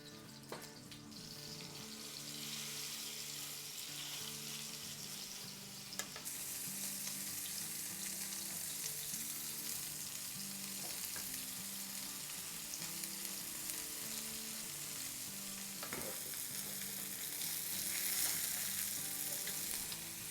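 Seekh kababs fry in hot oil in a pan, a dense, steady sizzle that runs the whole time with occasional clinks and stirring scrapes, close up and without talk.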